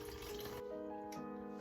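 Filtered water pours into a bowl set on a kitchen scale for sourdough dough. The stream sounds as a continuous trickle whose tone shifts twice as the bowl fills, with no talking.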